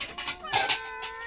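A cat meows several times in quick succession, close and clear. The calls are short and tonal, heard in a scene from an Ilocano comedy drama.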